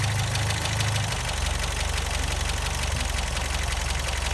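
An MGA MK2 engine idles steadily during idle adjustment, a loud, close, even low rumble with a slight change in tone after the first second.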